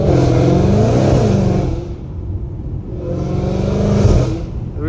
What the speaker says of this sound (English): The reason I'm doing little baby pulls because I want to warm up the engine a little bit more.